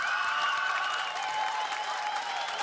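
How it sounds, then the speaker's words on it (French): Concert audience at the Musilac festival applauds the festival team, a steady dense wash of clapping held at even loudness throughout with no break. "je voudrais qu'on fasse un tonnerre d'applaudissements à toute l'équipe du Festival Musilac"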